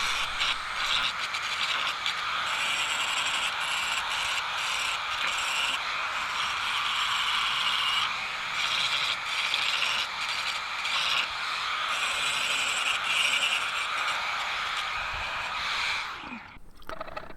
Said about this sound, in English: With the C-spanner shape roughed out, I turn to the grinder again to finish the shape.